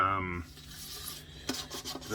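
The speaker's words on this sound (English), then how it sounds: "I'm going to have to do the sanding first" Sandpaper rubbing over a violin's wooden surface during retouching in a luthier's workshop, heard as a few short, close, raspy strokes after a brief bit of other noise, fairly quiet and with no talking.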